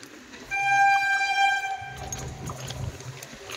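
A train rolls past beside a narrow lane in Barasat, its horn sounding with a steady sustained tone early on, then the low rumble of wheels and carriages continuing close by after the horn stops.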